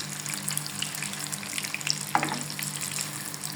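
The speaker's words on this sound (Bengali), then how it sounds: "এক পিঠ হয়ে গেলে পরে আমরা আবার আরেক পিঠ ভেজে নেব" Meat pakoras deep frying in hot oil, a continuous bubbling sizzle with crackling pops and one brief sharp clink, close and alone without speech.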